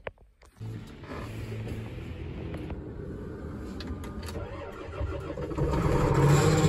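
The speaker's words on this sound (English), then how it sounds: "let's get this tractor fired up, see if it'll even start" A tractor engine cranks and fires up after sitting for a week, a brief start followed by a steady, loud, rumbling idle that grows slightly stronger toward the end, close by with no talking.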